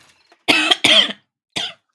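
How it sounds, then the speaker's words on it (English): Three harsh coughs from one person, two close together and then a shorter one after a pause, loud and close with near silence between them. "I know I'm coughing so much"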